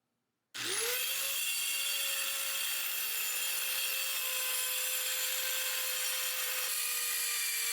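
A wooden plank being cut for a simple table, a power saw spinning up sharply and then running in one loud steady whine for several seconds, with no talking.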